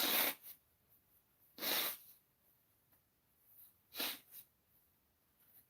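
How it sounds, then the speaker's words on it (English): Three short, forceful nose blows by someone with allergies, close and fairly quiet, separated by near silence. "I'm going to blow my nose on a live broadcast for the first time"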